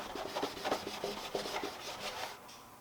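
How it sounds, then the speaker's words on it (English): A cloth soaked in rubbing alcohol rubs over a cracked plastic RC car body, making soft, close swishing strokes in an uneven rhythm, fairly quiet and with no voices. "after you clean the area real good with your rubbing alcohol"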